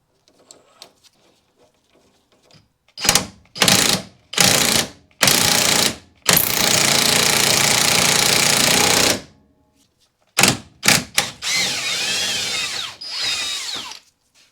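Loud bursts of rapid hammering from a power tool driving an ARP extended wheel stud into a Mazda MX-5 Miata's front hub, several short hits then longer sustained runs, separated by near silence.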